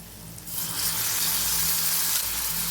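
Onion, fennel and curry leaves sauté in a pan with salt, a loud hissing sizzle that swells after a brief quiet start and holds steady to the end.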